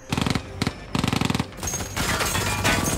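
Gunfire erupts in a war film scene as four soldiers climb out of a tank: two rapid machine-gun bursts up close, followed by a noisy wash of continued firing and battle din.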